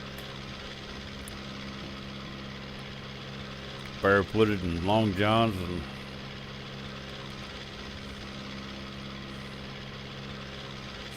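A small light airplane's engine drones steadily in flight over mountain valleys, a low continuous hum heard from inside the cabin, with someone talking briefly over it.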